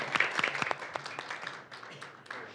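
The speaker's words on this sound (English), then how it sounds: "Let's give him a big round of applause." An audience breaks into applause, a burst of clapping that is loudest at first and then thins out over a couple of seconds.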